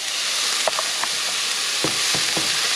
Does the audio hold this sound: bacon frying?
yes